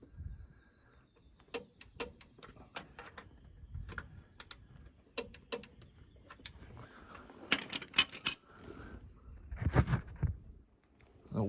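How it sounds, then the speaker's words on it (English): A torque wrench clicks and ratchets in irregular bursts of sharp, close metallic ticks while connecting rod caps are torqued down on rod studs during a cylinder pack install, with short pauses between bursts and a few heavier knocks. "All right, so we're torquing."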